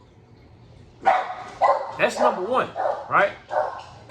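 Dogs bark repeatedly in sharp, loud bursts at close range while someone speaks briefly over them.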